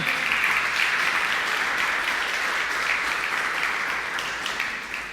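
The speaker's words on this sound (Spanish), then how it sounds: "Denle un aplauso al Señor por eso, ¿verdad?" A church congregation at a sermon gives sustained, dense applause, a broad even wash of clapping that stays strong and gradually eases toward the end.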